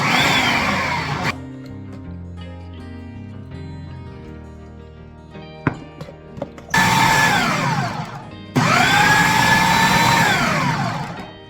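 A food processor pulsing homemade cracker dough with added vegetable oil, loud whirring motor bursts at the start and two longer runs late on, each winding up and down, with quieter clinks and shuffling between pulses.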